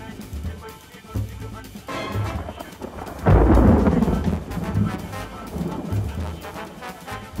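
Low rumbling thunder rolls through a storm at sea, with a heavy burst midway over a steady wash of wind and rain, somewhat distant.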